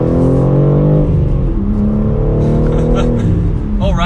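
A 2022 BMW M3 with a six-speed manual revs close by, its engine note loud and steady, swelling and falling slightly over a few seconds with no talking.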